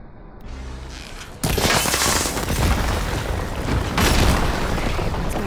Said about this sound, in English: It's getting ready to fire at us.